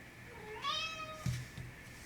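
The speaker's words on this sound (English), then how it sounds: "if you hear my cat meowing" A house cat gives a single close, drawn-out meow with a rising then falling pitch, fairly quiet against a soft indoor background.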